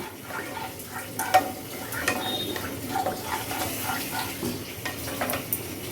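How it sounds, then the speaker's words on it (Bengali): Potatoes fry in hot oil in a home kitchen, giving a soft, continuous crackle and bubbling with a few brief louder pops and light stirring noises, moderately close and fairly quiet. "চলো আলুটা ভেজে নিই তেল কি গরম হয়েছে আমার"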